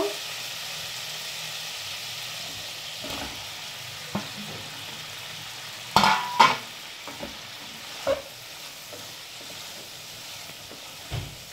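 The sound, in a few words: pointed gourd being fried and stirred in spices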